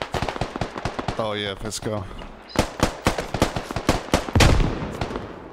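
Rapid gunfire cracks and a grenade blast ring out in the military shooter game Squad, dense bursts of sharp shots close by, with a brief spoken remark among them.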